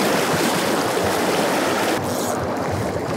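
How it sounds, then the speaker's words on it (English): The Ashnola River rushes past at a fishing spot in southern British Columbia, a steady, loud, broadband wash of fast water filling the whole stretch with no voices. "You can hear that water rushing, you know."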